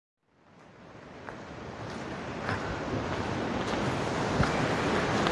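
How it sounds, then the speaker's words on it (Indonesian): Ocean waves at high tide on the beach at Karang Hawu, Sukabumi, fading in to a steady, broad roar of surf with wind buffeting the microphone. "Ombaknya lagi pasang."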